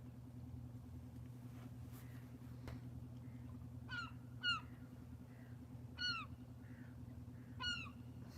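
A seagull calling inland beside a river and canal on the Norfolk Broads, a few distinct repeated cries spaced a second or so apart over a steady low engine rumble.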